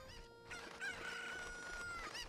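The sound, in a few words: chicken crowing in video game Zelda Ocarina of Time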